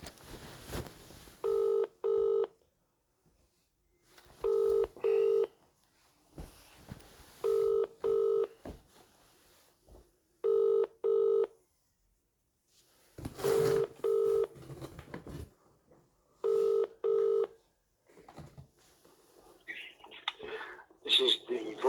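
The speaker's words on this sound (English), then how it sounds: "Ring up Graeme Kenna." Phone call being placed to a council legal department: paired dialing and ringback tones repeat at a steady rhythm, clear and moderately loud, with faint background noise and soft voices in the gaps.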